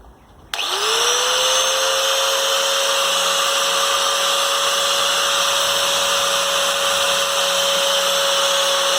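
An angle grinder fitted with a drill bit boring through porcelain tile spins up suddenly and holds a loud, steady high-pitched whine with a rising tone at start-up, continuous and close.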